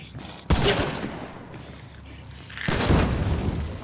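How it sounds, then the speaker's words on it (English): Two sharp, loud gunshots in the DeSalle map of a shooter video game, fired at a lantern and spaced about two seconds apart, each followed by a short rumbling decay. "you can shoot the lantern?"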